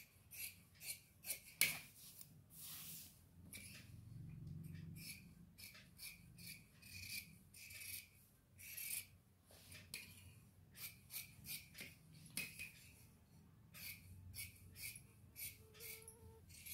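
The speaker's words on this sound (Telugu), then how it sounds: "ఇలా లో కటింగ్ కోసం మార్క్ చేసుకుని ఫ్రంట్ పార్ట్ కట్ చేసుకుందాం" Scissors cutting the front part of a blouse's fabric, heard as close, quiet, repeated rasping snips and rubbing strokes in an uneven rhythm.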